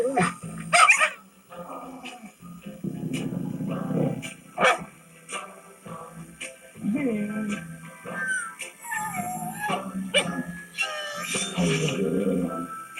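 A dog barks and yips in short bursts through a Subaru Crosstrek TV commercial, with a person talking in between and around the barks.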